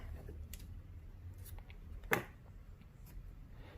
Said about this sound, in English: So I'm going to chain 1 and cut my yarn.